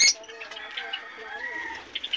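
Chickens squawk and flutter in a sudden startled burst, with restless calls continuing close by at moderate volume.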